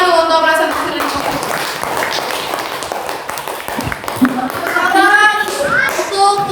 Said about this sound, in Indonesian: Tepuk tangan dulu untuk presentasi dari kelompok